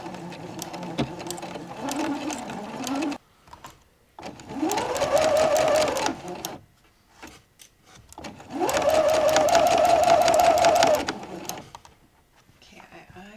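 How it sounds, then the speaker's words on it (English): A sewing machine stitches a French seam on the shoulder of a pink wrap dress, running in three steady whirring bursts of a few seconds each, separated by short quiet pauses, loud and close. "Second shoulder is pinned, and I will attempt to sew it"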